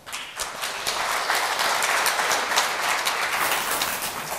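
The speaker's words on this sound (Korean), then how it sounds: "나오신 발표자분께 큰 박수 부탁드리겠습니다" A large seminar audience of several hundred applauds as a presenter takes the stage at a software company's conference, a loud, continuous crackle of many hands clapping throughout.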